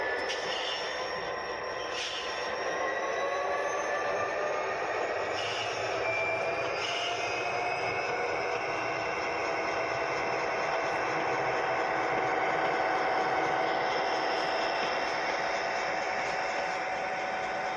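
An HO scale model train pulls slowly into a siding on a layout with a soft, steady motor whine and faint rolling hum, quiet and continuous, with no talking.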